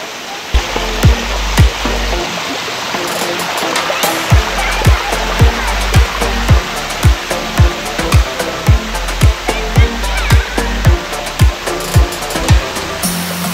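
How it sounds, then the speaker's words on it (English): A waterfall in Chiang Rai, northern Thailand, roars steadily throughout, a dense broadband wash of rushing water with regular low thumping pulses running through it. "So much fun here at this waterfall"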